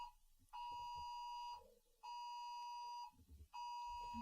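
A mobile phone emergency alert for fine dust sounds as a loud, steady electronic tone in three long bursts of about a second each, separated by short gaps, with faint low murmurs between them.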